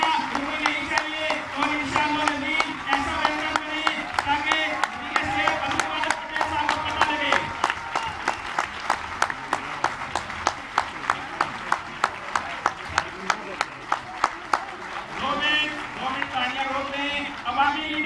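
A crowd claps to welcome the health minister at a gathering of striking PIMS hospital employees. The applause is sustained and fairly close, with sharp rhythmic claps growing more regular midway and voices chattering underneath.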